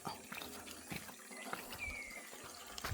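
Water runs and splashes faintly from a tap, a soft trickling wash with small clinks, fairly quiet and steady.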